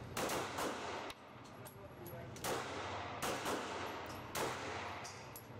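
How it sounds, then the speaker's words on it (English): A Glock handgun fitted with a 50-round drum magazine fires in quick bursts of several shots each. The reports are loud, echoing and close, separated by brief pauses. "You can sit there and fire away to your heart's content."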